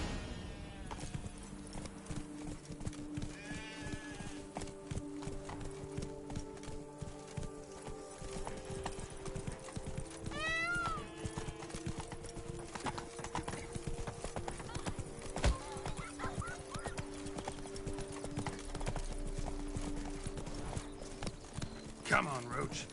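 Roach's hooves clip-clop at a steady trot in The Witcher 3, a continuous rhythmic patter under game music, with occasional whinnies and voices talking over much of it.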